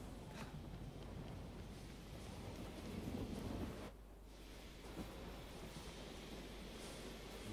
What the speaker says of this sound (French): De la foudre de Zeus?